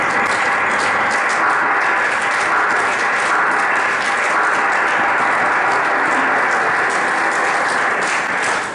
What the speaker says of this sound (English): I want all of you to please rise up and give a clap ovation to His Royal Majesty.